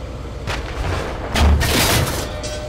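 A Leopard 1A5 tank cannon fires a HEAT round in the Steel Beasts simulator, a heavy boom followed by a second deep thud and rumbling tail, all fairly loud and close.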